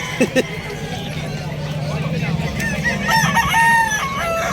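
Roosters crow repeatedly amid a busy farmyard din at a pet market in Bulacan, with hens clucking and people chattering nearby.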